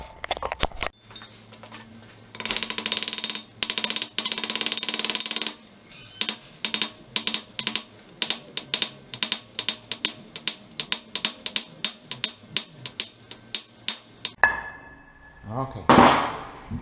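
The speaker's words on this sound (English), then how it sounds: "let's gently hammer" Metal hammer taps on a bearing being driven into a Honda S2000 gearbox, first several sharp ringing strikes, then a long run of quick, regular light taps, close and clear, with brief voice sounds at the end.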